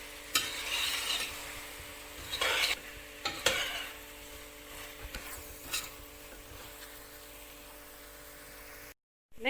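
Mushrooms cook in tomato masala in a pan, a soft steady sizzle broken by several loud scraping stirs near the start and middle, close by, with a brief dropout at the end and no speech.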